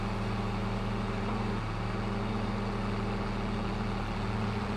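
A tractor engine in the Farming Simulator video game drones steadily at idle, a constant low rumble that stays loud and even throughout, with no talking over it.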